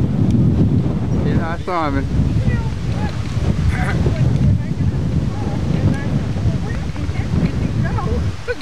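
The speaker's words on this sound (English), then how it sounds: "You want to get out of the wind somewhere?" Strong wind buffeting outdoors on Campobello Island, New Brunswick, a loud constant rumbling roar across the whole stretch, with people talking briefly under it.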